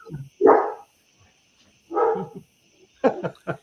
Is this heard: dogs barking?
yes